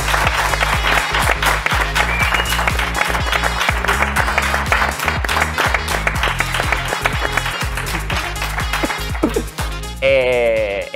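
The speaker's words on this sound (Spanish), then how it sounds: "les hemos dicho que aplaudan muy fuerte para generar el ambiente" About five people in a small studio clap very hard to build atmosphere, bright rapid applause that sounds fuller than the room, running under music with a beat and ending in a short tonal sound near the end.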